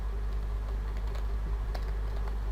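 Text typed on a computer keyboard while coding an HTML page, a quick run of light clicking keystrokes over a steady low hum, close and fairly soft.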